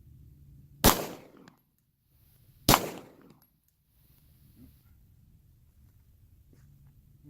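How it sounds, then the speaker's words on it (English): Two sharp pistol shots fired from a compensated handgun at night in the desert, federal ammunition, spaced about two seconds apart, each loud blast trailing a brief decay, with quiet ambience between and after. "As you can see, I just took a couple of shots."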